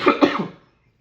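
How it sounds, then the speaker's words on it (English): A child gives a short, close cough, about three quick throaty bursts in roughly half a second, then silence. "coughing."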